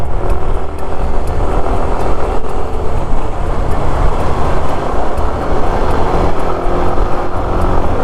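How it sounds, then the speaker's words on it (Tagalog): Dense road traffic rumbles in a loud, continuous wash of engine noise, with no talking. "Sana hindi ako ma-traffic dito."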